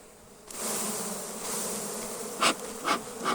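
Honey bees buzz loudly and continuously close by on a hive frame in November, a dense droning hum with a couple of brief louder swells as bees pass near.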